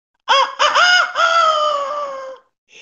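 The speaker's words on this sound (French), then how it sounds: "un coq qui chante du matin au soir" A rooster crows loudly and close by, a single full crow in several rising and sustained phrases lasting about two seconds, alone with no other sounds around it.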